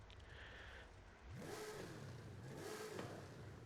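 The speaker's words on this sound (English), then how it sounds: "I love the chop that this thing has at idle." A 1969 Pontiac GTO Judge engine in Forza Horizon 5 idles with a choppy, lumpy rumble, then rises in two short revs that fall back, faint and close.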